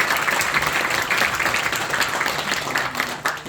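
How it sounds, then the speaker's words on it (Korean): Steady applause from a crowd at a year-end gathering, dense and continuous clapping throughout with no voices on top. "힘찬 박수 부탁드립니다."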